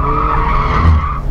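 Tires squeal in a sustained screech as a Mazda MX-5 RF slides into oversteer with stability control still on, one continuous loud skid holding for about a second over low engine rumble, then cutting off.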